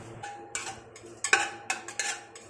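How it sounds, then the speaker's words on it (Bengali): Metal spoon scraping and clinking in a pressure cooker pot with mustard oil, a bay leaf and dried chilli, several close, sharp strokes in an irregular rhythm, with no voices. "কিছুটা নেড়ে নেবো"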